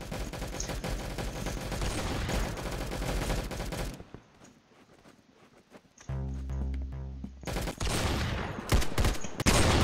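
Rapid machine gun bursts in the Roblox video game, loud dense gunfire at the start, a quieter pause, then more fast bursts with a low rumbling tone and sharp shots near the end.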